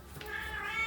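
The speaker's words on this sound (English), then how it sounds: "Excuse my cat." A house cat gives a short, thin meow, close and brief, with a faint room hum around it and no talking.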